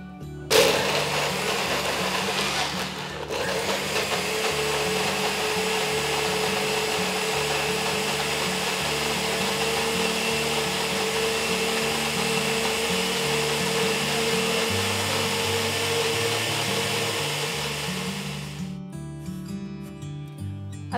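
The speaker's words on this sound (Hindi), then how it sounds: "अब इसे मिक्सी में क्रश कर लेते हैं।" A kitchen mixer grinder whirs loudly and steadily for a long stretch crushing green coriander chutney with yogurt, its motor droning with a rattling churn, then switches off near the end.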